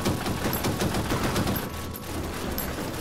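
Rapid tank cannon and machine-gun fire in the online mobile tank battle game Armor Attack, a dense continuous volley of shots throughout with a slight dip midway.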